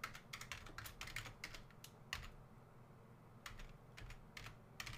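Clicky computer keyboard typing comes in quick bursts of close keystrokes, pausing briefly between runs, quiet and alone without any talk.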